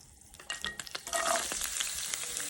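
Two large onions drop into hot oil in a pan and start to sizzle, with a loud crackling hiss that rises and holds steady amid light stirring scrapes.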